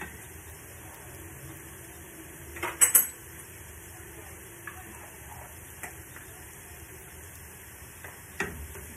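Ground ginger is stirred into butternut squash soup in a pot, with soft spoon clinks and scrapes spaced out over a quiet kitchen background with faint sizzling.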